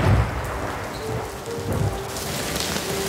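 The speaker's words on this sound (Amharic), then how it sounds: "በዚያ ምሽት በረዶ ከተማዋን መቷት ነበር።" A night storm with hail battering a town: steady dense patter of rain or hail on surfaces with low rumbling, close and continuous throughout, no voices.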